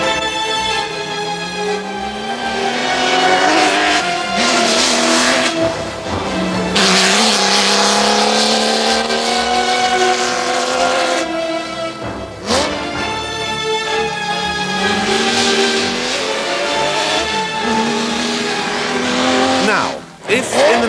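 A classic Ferrari racing car engine screams loudly through repeated high revs and gear changes, rising and falling pitch over about twenty seconds, close by.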